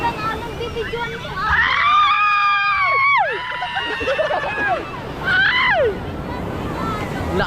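Strong waves surge and wash ashore at a beach in Pundaquit, Zambales, a rough rushing bed under loud excited screams and crowd chatter, with a boat engine nearby.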